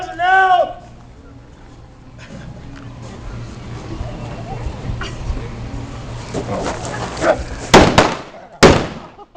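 Western film gunfight shotgun blasts: two sharp, loud bangs near the end, preceded by quieter scuffling and movement with a brief voice at the start.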